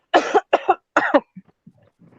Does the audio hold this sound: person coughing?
yes